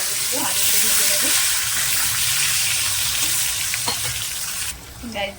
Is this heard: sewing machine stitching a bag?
no